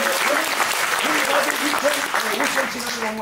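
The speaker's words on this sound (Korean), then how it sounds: "큰 박수 부탁드립니다." A room full of people applauding steadily at a talk concert, dense clapping that holds at an even level throughout, with a voice briefly audible over it.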